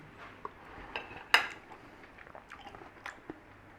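Steak in homemade Chinese black bean sauce is tasted, with a few cutlery clinks against a plate, one sharper knock, then soft, close chewing and squishy mouth sounds, and no speech.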